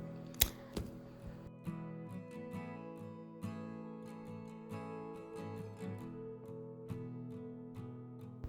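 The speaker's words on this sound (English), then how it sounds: "I just cut open a part there just to make the slit move seamlessly to the other side." Scissors snip through fabric to open a dress slit, with a sharp cut near the start followed by quieter intermittent snips over a steady background hum.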